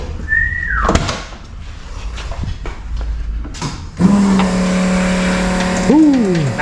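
A turbocharged Ford Foxbody Mustang coupe engine running with a new mid pipe: a steady idle with whining tones after a door thud, ending in a rising rev, close and loud.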